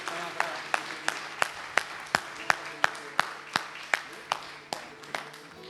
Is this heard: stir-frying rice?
no